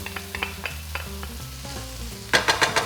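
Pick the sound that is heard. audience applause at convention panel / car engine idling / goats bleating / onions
onions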